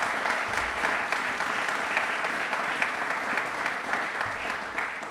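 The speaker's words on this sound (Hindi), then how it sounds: "तालियां एक बार इनके लिए जोरदार बनती हैं" A television quiz audience on DD Rajasthan breaks into dense, sustained applause that holds at an even, loud level throughout with no voices on top.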